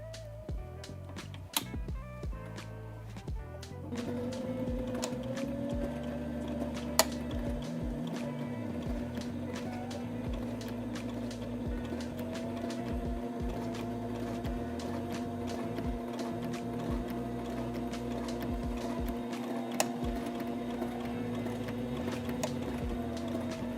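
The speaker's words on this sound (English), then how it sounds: "we're going to take this piece over to our sewing machine and we're going to sew along either side of our original stitch" A sewing machine runs steadily, stitching along a seam line beside an earlier stitch with the presser foot edge as a guide; after a few seconds of handling noise it hums on in a continuous, even drone.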